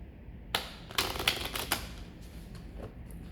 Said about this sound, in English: So first let's just mix the cards.